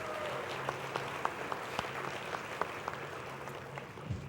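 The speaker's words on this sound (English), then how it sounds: "Give yourself a warm round of applause." Audience applause at a lifetime achievement awards dinner, a soft continuous clatter of many hands with a few sharper individual claps standing out, fairly distant and faint.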